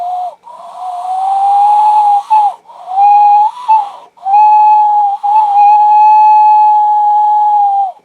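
A person whistles in imitation of a specific signal whistle from the film 65, as a daughter would at the edge of a shore: sustained, steady, loud whistled tones in three long bursts with short breaths between.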